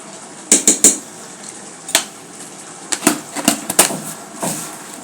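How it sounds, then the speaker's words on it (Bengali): Fried sweet pumpkin with egg is stirred in a pan after a pinch of salt, with a spatula clanking and scraping against the metal in sharp, irregular knocks, loud and close. "লবণটা দিয়ে ভালো করে নেড়ে চেড়ে দেবো।"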